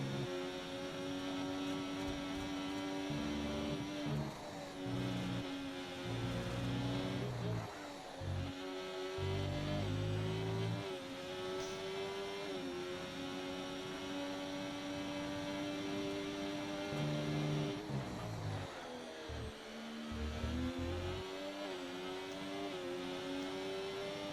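F1 24 race cars in a game replay, a steady high engine whine with rising and falling revs through gear changes, running continuously beneath a commentator's voice.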